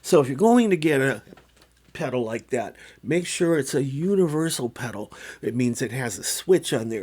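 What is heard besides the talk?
No distinct noise like a dog, phone or traffic.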